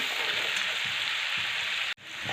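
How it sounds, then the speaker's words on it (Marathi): Green chillies frying in hot oil in a pan, a steady, even sizzle with faint stirring bumps underneath and a brief dropout near the end. "ही मिरची आपल्याला छान तेलामध्ये अशी परतून घ्यायची आहे तिखटपणा जाऊपर्यंत"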